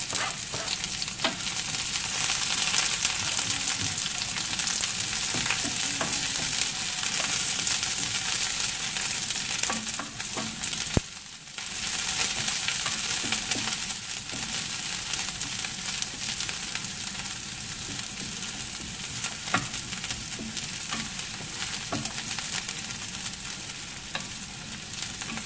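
Onion fries in a pan for a shrimp curry with vegetables, giving a steady bright sizzle and occasional stirring clicks that last throughout, close and unbroken except for a brief dip midway.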